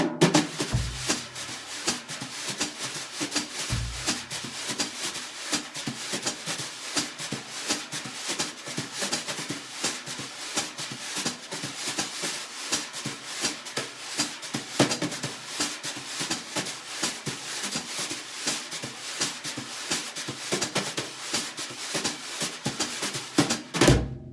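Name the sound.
jazz brushes on drum, two patterns combined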